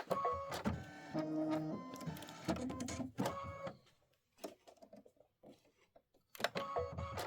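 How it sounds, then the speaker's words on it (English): Embroidery machine stitching a quilt block with Minki Kim fabrics, close rhythmic mechanical whirring and tapping in bursts with brief pauses, no talking. "This is just going to be a minute of stitching."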